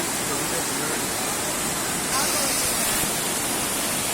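Elephant Falls waterfall at Shillong roars with a steady, dense rush of water, loud and close, continuing without a break.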